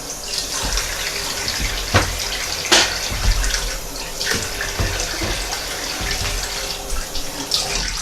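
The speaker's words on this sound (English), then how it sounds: "So let's rinse these potatoes off." Tap water runs steadily into a sink as peeled potatoes are rinsed, a close continuous splashing stream with occasional knocks and shifts as the potatoes are handled.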